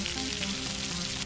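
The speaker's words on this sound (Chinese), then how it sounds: "炉子一开就可以开始炒菜" Frying sizzle from a toy kitchen stove set, a dense, even hiss that runs continuously through the short moment with no voices.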